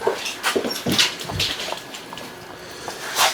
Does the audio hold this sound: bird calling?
no